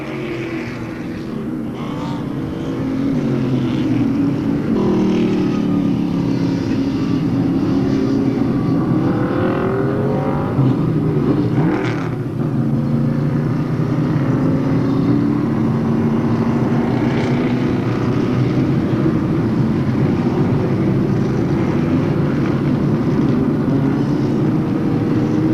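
Pro Stock race car engines at Monadnock Speedway roar together in a loud, continuous drone, with pitch rising and falling as the cars circle the track.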